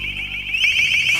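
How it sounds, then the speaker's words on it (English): An LRAD long-range acoustic device sounds a loud, steady high-pitched alarm tone that holds continuously and rises slightly in pitch, with no speech over it. "LRAD broadcasts highly intelligible, live or pre-recorded voice messages and alarm tones in a 30-degree beam"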